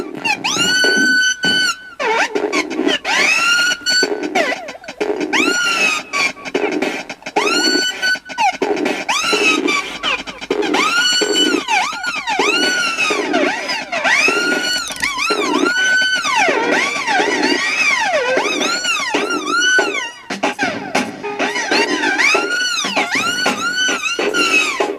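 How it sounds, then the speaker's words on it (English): Warbling electronic tones from a cassette synth rise and fall in repeated sweeping arcs, a loud, continuous siren with bright harmonics running throughout. "So that's with a siren noise."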